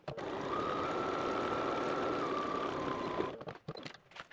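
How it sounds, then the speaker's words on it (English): A sewing machine runs steadily, stitching a 1/4 inch seam for about three seconds with a constant motor hum and whine, then stops and leaves a few faint handling clicks. "we're going to take this over to our machine now and sew along here"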